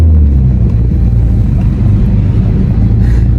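1999 Nissan Skyline GT with a Tomei exhaust drives with a loud, steady low engine and exhaust rumble heard from inside the car.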